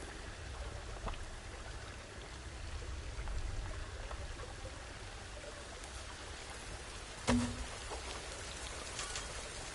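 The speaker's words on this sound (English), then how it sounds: "It's raining." Rain falls outside during Planet Zoo gameplay, a faint, steady patter and hiss that holds throughout, broken once by a short, sharp knock partway through.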